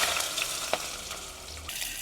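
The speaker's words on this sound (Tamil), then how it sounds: "சரி, இப்போ அதே எண்ணெயில் நாங்கள் சின்ன வெங்காயத்தை போட்டுக்கொள்வோம்." Small shallots fry in oil left over from frying anchovies, a brief, even sizzle close by with a faint clink partway through.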